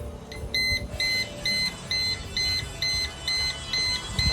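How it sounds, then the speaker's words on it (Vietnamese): A Jablotron alarm system in a building basement, set off by a motion sensor, sounds a loud repeating electronic beep in steady pulses of about half a second, clear and close with no talking. "Mình nhập mã code để mình tắt báo động."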